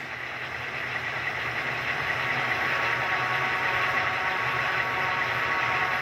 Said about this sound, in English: Hear the whine of the dynamic brakes there.